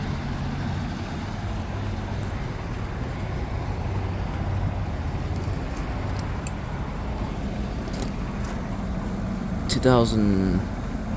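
A 2010 York LX Series 5-ton heat pump runs in heat mode with a steady low droning hum and a rough, unhealthy edge. Someone speaks briefly near the end.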